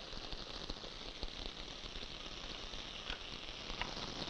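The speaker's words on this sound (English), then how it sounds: "when you're doing a sauté, you just keep watching and just tossing them around" Scallops sautéing with tomatoes in a hot pan, a steady soft sizzle and crackle heard alone and fairly quiet, with faint tossing clicks.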